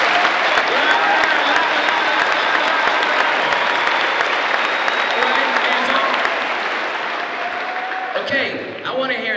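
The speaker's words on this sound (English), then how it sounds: "I would like to hear your most energetic, motivated, enthusiastic round of applause you could possibly give." Loud, sustained applause from a large motivated crowd at a morning talk, dense and steady throughout, with cheering mixed in and tapering slightly near the end.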